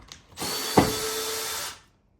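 A power drill drives a 4 mm screw into a 3 mm pilot hole, with a short click at the start, then a steady close whine lasting over a second, a brief grinding bite as the screw catches, and an abrupt stop.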